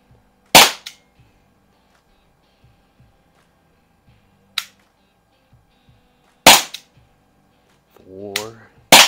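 Sharp CO2 shots from an Umarex T4E TR50 .50 caliber revolver, four loud cracks spaced irregularly, with a brief low voice near the end.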